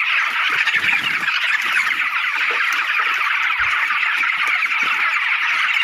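A flock of chickens fills a poultry shed with a dense, continuous chorus of overlapping clucks and calls, loud and close, with no talking.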